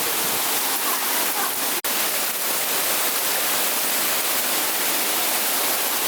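Steady heavy Mumbai monsoon rain with wind in a balcony garden, a dense continuous wash of close, loud hiss with no voices.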